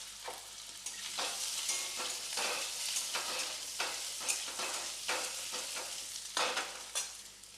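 Small pieces of boiled potato frying in a pan, giving a close sizzle broken by repeated stirring scrapes and spatula knocks in an uneven rhythm.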